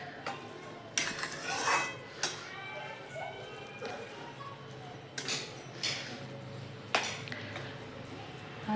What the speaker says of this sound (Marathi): आता त्याच्यामध्ये दूध टाकून झालं का व्यवस्थित हलवून घ्यायचं